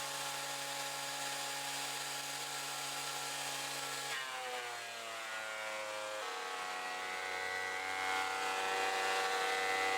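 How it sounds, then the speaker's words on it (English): An oak board fed through a thicknesser, with a steady high-pitched motor whine that dips in pitch and shifts as the cutter block takes the wood, continuous and moderately loud with no talking. "I'm just going to give it a couple of passes through the thicknesser to clean it up."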